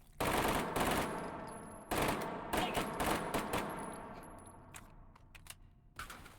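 Automatic gunfire in a shooter video game, loud close bursts of rapid shots with short pauses, fading toward the end with a final shot.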